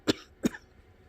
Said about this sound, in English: I'm coughing when it becomes hard for me to breathe.